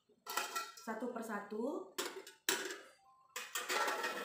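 Boiled medical instruments are lifted with forceps and set one by one into a metal sterilizer drum, giving repeated sharp metallic clinks and clatters amid close speech.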